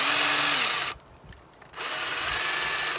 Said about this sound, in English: now we're gonna go ahead and finish drilling